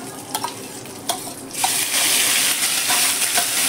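Spice paste of chilli paste, bay leaf, cumin, turmeric and salt fries in oil in a pan for chilli prawn. A few sharp clinks come first, then a loud, dense sizzle swells up and holds steady.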